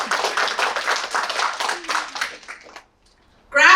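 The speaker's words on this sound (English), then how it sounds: "Round of applause." A graduation audience at a MESA transfer celebration gives a round of applause: many hands clapping briskly for a couple of seconds, then tapering off into silence before a voice begins.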